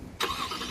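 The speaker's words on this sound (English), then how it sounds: "You can let go, and you'll see the truck start on." 2020 Toyota Tundra Platinum pickup engine starting by remote start, a sudden brief crank catching into a steady mid-pitched idle, fairly near and alone.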